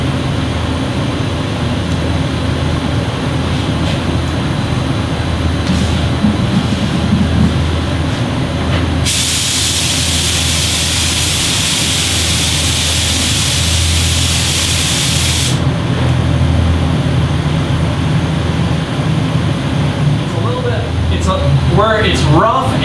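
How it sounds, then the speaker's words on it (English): Spray gun applying base coat onto plates, a broad loud hiss of spraying that lasts several seconds in the middle, set against steady background noise. "I'm going to explain how dry spray, or if it's not wet enough on your base coat, how it's gonna look and how to fix it."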